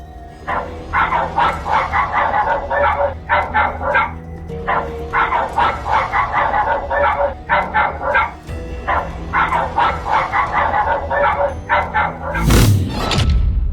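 Dogs bark loudly and repeatedly in quick, rhythmic bursts close by, ending with a heavy thump.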